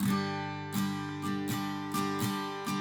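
An acoustic guitar strums a chord repeatedly in an uneven rhythm, bright strokes ringing out closely and quietly, with no talking.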